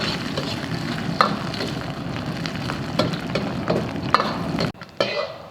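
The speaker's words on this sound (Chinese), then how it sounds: "再把这个肥肉下锅啊，把油煸出来一点" Chunks of fatty pork render in hot rapeseed oil in a wok, giving a dense, continuous sizzle with scraping stir strokes throughout and a brief break near the end.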